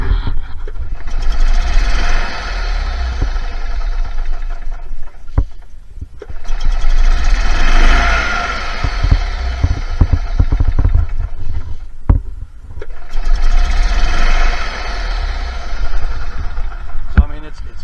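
A repaired golf cart starter cranks and the engine fires, running in loud, rough bursts that stop and restart three times, each a few seconds long, with someone talking between and over them.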